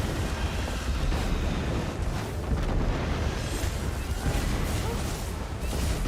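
Rumbling game explosions roll on without a break, dense and loud, forming a thick wall of booms and crashes that never lets up.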